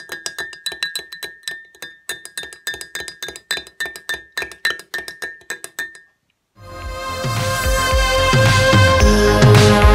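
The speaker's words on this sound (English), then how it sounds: "I like my coffee well stirred." A spoon stirs coffee in a cup, clinking against the sides in a quick, steady run of close, bright taps for about six seconds, then stopping before loud music begins.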